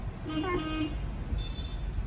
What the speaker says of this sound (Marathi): हॉर्न कशाला वाजवतोय?